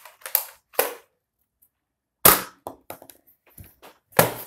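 A Nerf Disruptor toy blaster fires foam darts with sharp, dry snapping pops, a few quick shots close to the listener separated by short silences.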